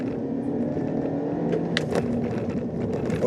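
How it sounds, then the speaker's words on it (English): 2019 Kia Forte with a CVT accelerating under full throttle, heard from inside the cabin as a steady, droning engine hum that rises slightly while road noise rumbles over rough pavement. "I'm gonna give it a little throttle mash here"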